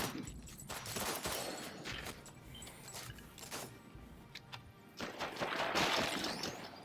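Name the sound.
gunshots in the VR video game Sairento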